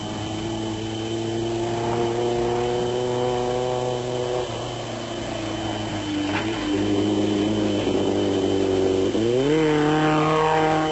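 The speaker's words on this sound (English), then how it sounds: "The Toyota Hilux of Shumi van Vieren and Fanny Kotze was still going strong" A Toyota Hilux off-road racing truck roars past at the 1996 Sugarbelt off-road race in South Africa, its engine droning steadily with shifting pitch and a rising rev near the end, loud and continuous with no talk.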